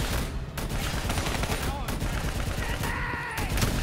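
Dense, continuous automatic gunfire and explosions roar throughout a battle in the video game Call of Duty: Black Ops III, with a voice shouting briefly over the din.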